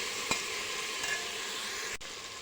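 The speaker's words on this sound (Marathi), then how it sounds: "वाटाणा आणि बटाटा छान असा परतून घेऊ यामध्ये." Peas and potatoes sautéing in a pan for masale bhat, a steady hissing sizzle with a couple of brief scraping stirs, close up and fairly quiet, no voices.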